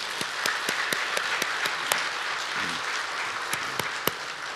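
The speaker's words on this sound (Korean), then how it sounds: "박수 한번 해드리겠습니다" A church congregation applauds during an ordination service, a continuous patter of many hands with a few individual claps standing out sharply and a faint voice briefly audible beneath.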